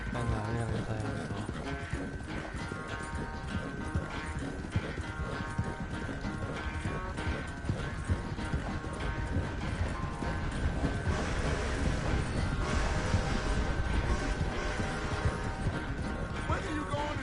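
Steady clip-clop of horse hooves at a trot in Red Dead Redemption 2, with a musical score and occasional voices over the rhythmic footfalls.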